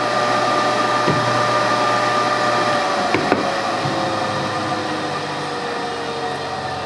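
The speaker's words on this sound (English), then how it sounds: "there's the motor that wouldn't run" The repaired motor of a 10-inch Craftsman table saw runs with a steady, loud hum and whine, with a couple of faint knocks partway through. The sound stays constant from start to finish, with no voices.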